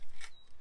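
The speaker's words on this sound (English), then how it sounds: "So we'll cut a little incision, just straight in round there like that." A blunt Stanley-style knife slices a small incision into the plastic membrane inside a Fiat 500 driver's door panel, giving a short, close scratchy cut with a brief squeak.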